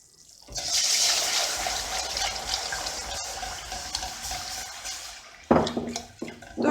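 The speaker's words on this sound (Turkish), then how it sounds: "Şimdi Suyunu ilave ediyorum. Topaklanmaması için hızlıca karıştıracağım." Water poured steadily into a pot for an aside pudding, a continuous splashing rush lasting several seconds before giving way to brief clinks and stirring near the end.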